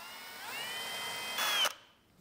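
A power drill whines up in pitch and bores briefly through hardwood, closing with a louder grinding burst before stopping abruptly.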